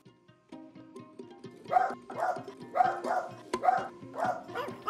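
Several dogs bark repeatedly at a traveller site, a rhythmic run of loud, close barks building after a quiet start, with a low hum of other activity underneath.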